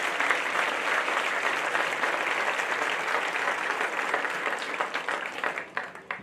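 A graduation ceremony crowd gives a round of applause, with dense, steady clapping throughout that thins out and breaks into scattered claps at the end.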